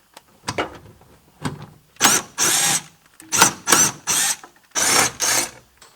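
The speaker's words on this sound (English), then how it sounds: "Power tool time." A power tool, likely an impact wrench, loosens transmission cross member bolts under a vehicle, sounding in short loud whirring bursts in pairs with brief pauses between, close to the microphone.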